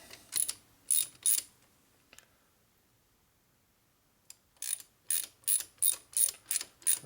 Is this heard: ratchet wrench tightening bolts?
yes